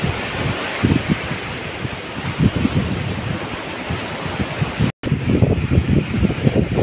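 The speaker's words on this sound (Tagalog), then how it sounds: "Sobrang hangin oh. Grabe hangin. Sobrang hangin dito. Grabe ang lakas ng hangin." Strong wind blasts across the microphone in loud, gusting rushes, roaring and buffeting continuously with a brief dropout near the end.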